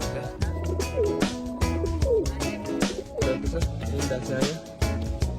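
Pigeons cooing inside a coop, many overlapping low rolling coos close by, with a constant busy flutter and rustle underneath.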